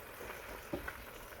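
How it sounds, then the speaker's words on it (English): Beef ribs stirred into sauce in a stir-fry pan make a soft, low sizzle with a couple of brief knocks or scrapes partway through, quiet and without talk. "put all the beef rib in, mix it with the sauce"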